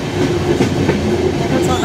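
The Vasco da Gama–Vellankani Express passenger train runs along the rails, giving a steady close rumble with faint rhythmic clatter and no distinct voices.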